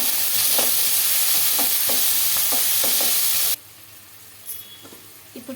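Chopped tomato pieces in a fish curry base fry loudly with a dense, steady sizzle and repeated stirring scrapes, then the sizzle cuts off abruptly and only faint clinks remain.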